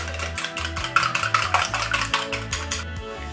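A whisk beats egg, vanilla and milk in a bowl for a Jamaican rock cake batter, giving a steady, quick series of clinking, scraping strokes against the bowl. The sound is close and fairly loud, with no voices.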